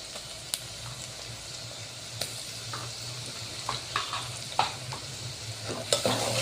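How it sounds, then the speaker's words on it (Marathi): Garlic-ginger paste sizzles in hot oil with browned onion for a shev bhaji curry, a steady close frying hiss broken by sharp clicks and scrapes of a stirring spoon against the pan. "आता यामध्ये आपण लसूण अद्रकचा पेस्ट टाकायचा आहे।"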